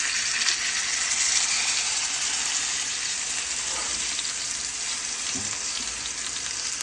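Prime rib steak searing in a hot iron pan, giving a loud, steady, close sizzle that holds for several seconds with faint clinks partway through, no talking.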